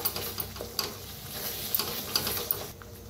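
Masala fries in oil in a kadhai for egg curry, a continuous crackling sizzle broken by scattered sharp clicks of stirring, close and steady with no talking.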